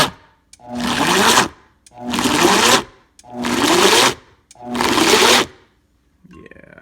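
A Vitamix blender kneads bread dough in four even, loud bursts of motor whir, each lasting about a second with short silent gaps between, ending with a faint clatter.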